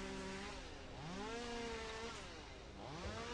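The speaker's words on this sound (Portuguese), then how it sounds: "Olha aí, ele tá de motosserra" The monster's chainsaw in the Slendytubbies 3 video game whines and revs continuously, with rising and falling buzzy pitch sweeps over a few seconds and no talking.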